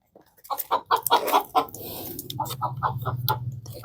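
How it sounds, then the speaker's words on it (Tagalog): Chickens inside a coop cluck in a quick run of short, close calls, followed by a lower, steadier stretch of clucking and shuffling nearby. "Mailap kasi masyado itong mga manok na to kasi binili ko lang to, hindi ito akin."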